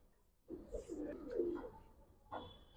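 A pair of Giribaz coloring pigeons, male and female, coo in a sustained low burbling phrase up close, then a short second burst after a pause; no talking is heard.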